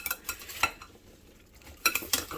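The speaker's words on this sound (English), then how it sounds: "We're just gently stirring to get them coated with my lemon juice, my sugar, and my cinnamon" Sliced apples being gently stirred with lemon juice, sugar and cinnamon in a bowl, giving soft scraping and clinking utensil sounds in a few close bursts with a quieter pause in the middle.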